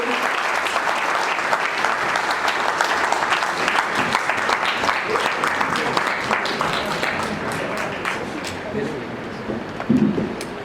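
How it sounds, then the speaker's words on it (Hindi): Audience applause at a state party president's birthday celebration: sustained, dense clapping from a large crowd that stays strong, then thins slightly with a brief louder flare near the end. "जोरदार तालियां बजाएंगे।"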